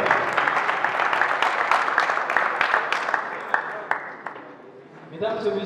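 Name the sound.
audience applause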